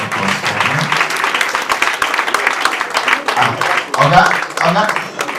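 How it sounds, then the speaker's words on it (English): Applause at a bank's farewell dinner, a loud, steady patter of hands from a crowd, with voices talking over it throughout. "Please put a round of applause for him."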